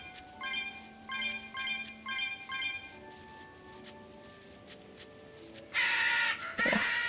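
A crow caws in the video game Tales of Berseria, a run of four clear, evenly spaced caws followed by quieter game sounds and a louder burst near the end.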